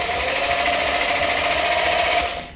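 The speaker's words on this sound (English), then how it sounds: "So that is the hammering and the drilling function." A loud, fast buzzing rattle of a cheap rotary hammer in hammer-drill mode runs steadily, then winds down at the end.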